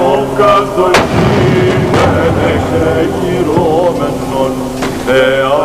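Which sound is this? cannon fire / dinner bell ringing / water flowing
cannon fire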